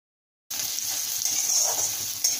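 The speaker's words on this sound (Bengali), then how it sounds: "এখন আমি 2টো মাঝারি সাইজের পেঁয়াজ কুচি দিলাম" Two medium chopped onions hit hot oil and burst into a loud, steady sizzle that starts abruptly after a brief silence and holds evenly throughout.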